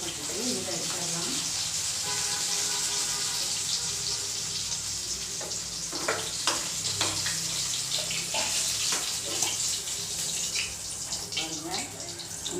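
Sliced bitter gourd fries in an oil-filled pan, a continuous hissing sizzle with scattered crackles and pops, and speech in the background.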